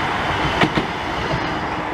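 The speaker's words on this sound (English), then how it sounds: "There's a tram speeding past." A tram speeding past on a street in Blackpool, heard as a steady broadband rolling rumble of wheels on rails with a brief clatter near the middle, close and continuous throughout.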